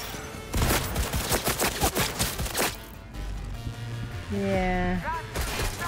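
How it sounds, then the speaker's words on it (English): Rapid bursts of shotgun fire crack out in a gunfight in the video game Cyberpunk 2077 Phantom Liberty, loud repeated blasts for about three seconds, followed by game sounds and a brief spoken word. "Using a shotgun!"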